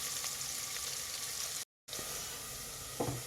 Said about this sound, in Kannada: ಗೋಲ್ಡನ್ ಬ್ರೌನ್ ಕಲರ್ ಬರೋವರೆಗೂ ಸ್ವಲ್ಪ ಚೆನ್ನಾಗಿ ನೀವು ಫ್ರೈ ಮಾಡ್ಕೊಳ್ಳಿ